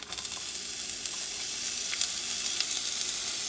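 A small amount of onion frying in a pan over medium-high heat, giving a steady, close crackling sizzle with a few soft stirring sounds and no talking.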